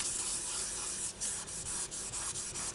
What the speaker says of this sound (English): I'm going to burnish this thoroughly to make sure that that black is stuck down onto that metal leaf